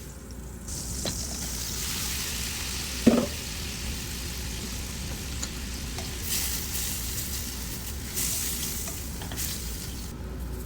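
Shrimp sizzle in melted butter in a pan seasoned with lemon pepper, giving a continuous frying hiss with stirring scrapes and one sharp clack of utensil on pan partway through. There is no talking.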